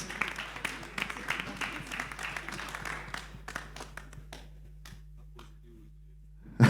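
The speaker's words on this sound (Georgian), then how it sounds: "აპლოდისმენტები მებრძოლებს." Applause for fighters at a face-off event in Bakuriani: scattered claps that start busy, thin out into a few isolated claps and fade to near quiet.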